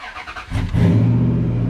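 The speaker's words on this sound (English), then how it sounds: "Listen to that old thing start up." An old Dodge Ram pickup with about 100,000 miles and a suspected rod knock cranks briefly, then catches and settles into a loud, steady idle close by.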